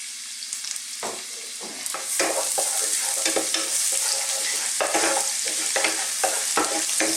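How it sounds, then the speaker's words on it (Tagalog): Garlic frying in hot oil in a frying pan gives a steady close sizzle with repeated scraping stir strokes throughout, growing louder after the first couple of seconds. "Medyo papulayin lang po natin ang ating garlic."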